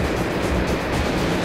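Ocean water in the Serious Sam video game washes in a dense, steady surf-like rush, loud and continuous throughout with no gaps.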